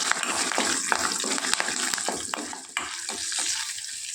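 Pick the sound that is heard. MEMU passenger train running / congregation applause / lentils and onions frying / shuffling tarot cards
lentils and onions frying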